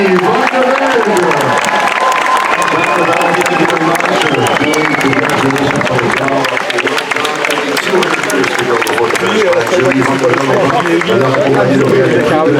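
A roadside crowd at a Tour de France Femmes stage from Collonges-la-Rouge to Montignac-Lascaux applauds cyclist Julie Van de Velde with loud, continuous clapping and cheering. A prominent voice carries over the noise the whole time.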